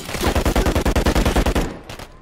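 Turret machine gun hammering away in Call of Duty Modern Warfare III, a loud, steady burst of about fifteen rapid shots that cuts off near the end and leaves a brief tail.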